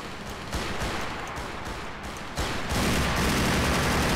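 Heavy gunfire in a Grand Theft Auto IV police-mod shootout during a boat pursuit: a dense, rattling fusillade of overlapping shots that continues throughout and grows louder and thicker in the final second and a half, with no voices.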